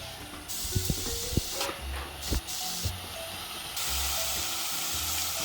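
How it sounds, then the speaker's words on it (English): Noodles hit a pot of sautéed garlic and set off a steady hissing sizzle, broken early on by a few clanks and knocks before the frying settles into a constant, fuller hiss. "I'm going to put the noodles directly into the pot with my sauteed garlic."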